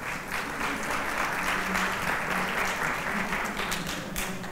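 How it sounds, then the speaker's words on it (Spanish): An audience at a Virtual Educa 2017 higher-education conference applauds a speaker named Jorge, with dense, continuous clapping that stays steady and fairly loud, a few sharper claps standing out near the end. "un aplauso para Jorge, por favor"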